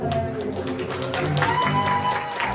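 Party guests at a quinceañera celebration applaud, a moderate burst of clapping mixed with crowd murmur and a voice speaking over it.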